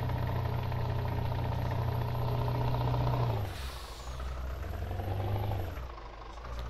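A Scania truck in the video game Farming Simulator 19, its engine idling with a steady low drone that dips and rises in pitch, then a hiss like an air brake releasing.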